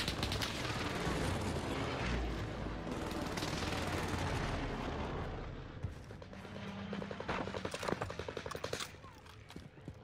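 Fortnite gunfire rattles through a busy game mix, with bursts of rapid shots and sharp cracks over the first seconds, thinning toward scattered pops near the end.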